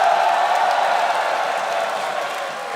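A large esports event crowd at The Grand Major 2025 finals, cheering and applauding in a steady, dense roar that fades slightly toward the end.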